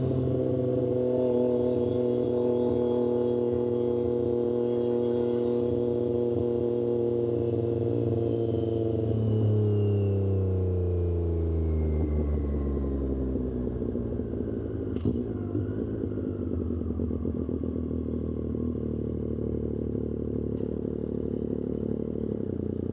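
Triumph 765RS motorcycle with an aftermarket exhaust and tune, riding with a loud, steady engine drone that sweeps downward and rises again as it shifts through revs, close and continuous with no talking.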